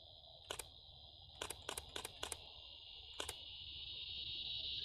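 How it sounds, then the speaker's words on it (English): Camera shutter clicks on a Florida scrub evening hike, six or so sharp single clicks in two bursts over a steady loud insect drone, no talking. "It definitely hears the shutter."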